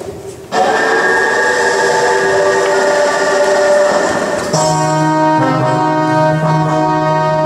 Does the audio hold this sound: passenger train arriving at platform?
yes